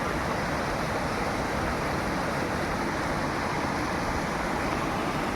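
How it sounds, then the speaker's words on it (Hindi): Water streaming between green fields in an old Himachali hill village, a steady broadband rush that stays loud and close for the whole stretch, with no voices over it. "तो वहाँ आप देख पा रहे होंगे कि नेचुरल तौर से हरे भरे खेतों के बीच से कैसे पानी बह रहा है।"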